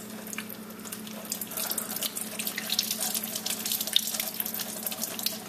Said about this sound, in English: I'm going to rinse it with soft water.